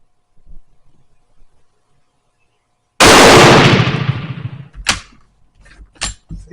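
A Mauser Turkish M38 rifle fires a single loud, close gunshot that rings out and decays over about a second. A few sharp, lighter mechanical clicks follow after a pause.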